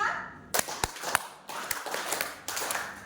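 A school group claps a set rhythmic pattern of five, with crisp, loud, closely spaced hand claps from many people in a room, coming in short bursts with brief gaps.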